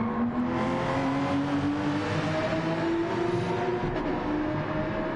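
Race car in Gran Turismo 7 driving an out lap on track, a steady whining engine drone with gradual pitch changes as it accelerates, continuous and moderately distant.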